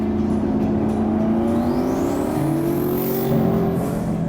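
A twin-turbo Ford GT making 1,000 horsepower at the crank accelerates at an auction event, a loud, steady engine drone with rising harmonic tones and a faint turbo whistle sweeping upward, with no talking.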